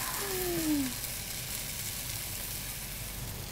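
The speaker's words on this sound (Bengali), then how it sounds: "ইলিশে তো তেল উঠে এসেছে। এটা একটু ভাজা হোক" Hilsa fish frying in hot oil gives a steady, low sizzling hiss throughout, with a brief tonal squeak near the start.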